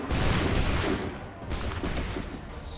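A musket volley in Assassin's Creed 3 sounds as loud, dense crackling bursts, with one heavy salvo followed by another ragged burst.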